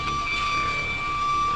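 A train in the Granny House video game drives off in an escape, with a steady mechanical rumble and sustained, whistle-like tones running throughout.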